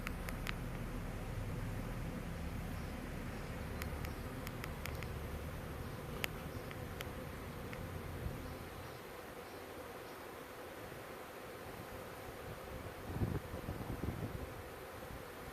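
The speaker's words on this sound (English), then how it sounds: "A lot of bees in that box." Honeybees buzzing in a steady, faint hum around a catch box outdoors, a soft continuous drone with scattered clicks and light wind noise.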